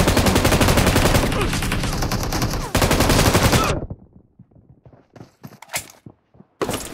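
Rapid automatic gunfire in the mobile battle royale game PUBG Mobile, a long dense burst of shots followed by scattered single shots and short volleys, loud and close.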